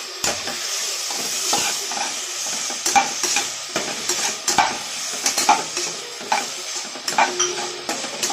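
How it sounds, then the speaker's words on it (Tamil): Vegetables for veg biryani sauté in oil with a loud, close sizzle. A spatula keeps stirring and scraping against the pan in quick irregular strokes throughout, with no voices. "கை விடாமல் ஒரு 5 நிமிஷம் நல்லா வதக்குங்க"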